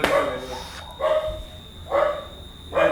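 A dog barks loudly and close by, four separate sharp barks spaced about a second apart with short quiet gaps between them.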